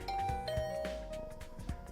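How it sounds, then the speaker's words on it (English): A chiming electronic doorbell rings at a dorm room door in the video game The Hundred Line: Last Defense Academy, a clear ding-dong tone ringing out over soft game music and thuds. "I rang the doorbell to Tsubasa's room."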